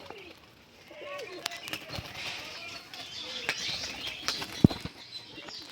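A two-eyed pigeon is released and takes off, its wings flapping in quick bursts for several seconds amid faint chirps and a sharp clap, with a voice speaking over the scene.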